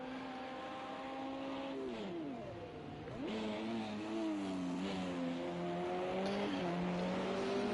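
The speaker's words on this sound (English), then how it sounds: "You can hear him lifting off and then braking a bit later." An LMP2 racing car engine in Project Cars 2 at Zhuhai whines, its pitch falling sharply as the throttle lifts and the car brakes, then climbing again as it accelerates away.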